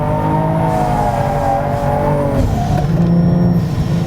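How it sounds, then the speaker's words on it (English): An ARC Performance Hyundai Genesis Coupe set up for drifting revs hard mid-slide, its engine droning loud and close with pitch swings as revs rise and fall, over tire and wind roar. "This ARC Performance Hyundai Genesis is very easy to drift."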